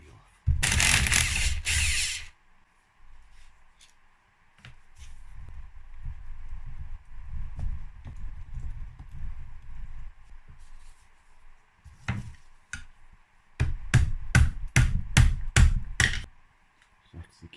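Ratchet wrench loosening an 8mm bolt on a Yamaha YZ80 dirt bike engine during teardown: bursts of rapid clicking ratchet strokes and a run of sharp clicks near the end, close up between quieter handling noises.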